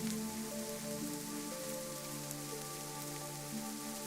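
Rain falling steadily on a garden, an even, continuous patter heard alone at a soft level.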